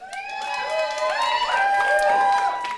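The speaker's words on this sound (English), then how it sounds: "Cheer if you have babies." A comedy show audience whoops and cheers, several voices overlapping in rising and falling calls that sustain loudly throughout.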